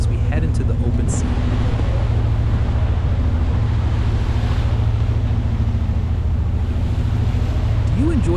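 Wind rushes and waves churn steadily and loudly around a boat heading into open sea toward Koh Lan off Pattaya, a continuous roar with a low engine-like hum underneath.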